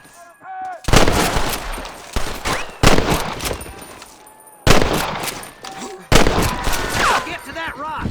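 A loud, close Red Dead Redemption shootout comes in four separate volleys of cracking gunshots, with short quiet gaps and whistling ricochet-like tails between bursts.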